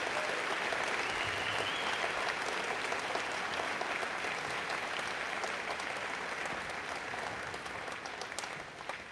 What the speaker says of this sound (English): And one more big clap for our grade 9 award winners.